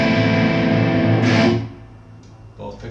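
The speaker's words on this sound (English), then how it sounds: "let's run through some crunch tones then" Crunchy overdriven electric guitar chord through the neck pickup of a 1981 Martin E-18, a loud sustained distorted ring that decays after about a second and a half, followed by quieter picked notes.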